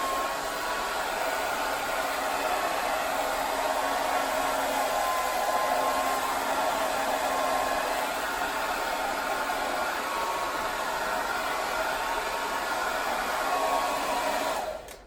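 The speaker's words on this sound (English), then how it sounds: "your hairdryer really comes in handy" A hair dryer blows hot air steadily and loudly onto waxed outdoor fabric gear for the whole stretch, a constant airy whir, then cuts off abruptly at the end.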